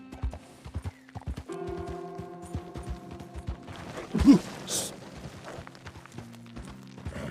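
Horse hooves clip-clop at a walking pace in Red Dead Redemption 2, a steady close rhythm of light knocks with a brief whinny midway and soft game ambience underneath.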